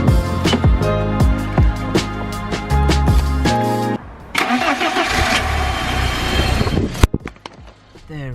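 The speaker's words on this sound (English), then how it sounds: "Now let's just go and see if the car starts." A BMW E30 cranks with rapid starter whirring, catches and fires after a battery replacement, then settles into a steady idle close by, with a brief clunk near the end.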